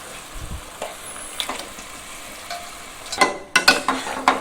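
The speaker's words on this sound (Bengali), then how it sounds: "এখন আমি মাংসগুলো দিয়ে ভালো করে কষিয়ে নেব" Marinated chicken pieces fry in a pan while being pressed and stirred, starting with a soft sizzle and ending in a burst of louder, close scrapes and clatters.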